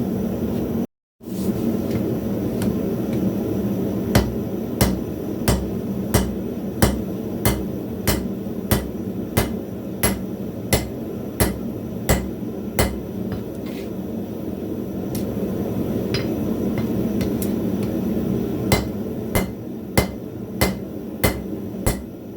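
A cross-peen hammer strikes the back end of knife steel to dent it and form a guard. Roughly two dozen sharp metallic blows ring out at a fairly even forging rhythm over a steady background hum.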